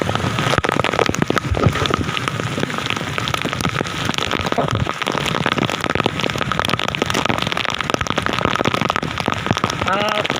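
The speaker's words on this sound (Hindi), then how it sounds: "माशाल्लाह बरसात आया" Steady, heavy rain pours down continuously, drumming on surfaces with dense patter throughout, close and loud.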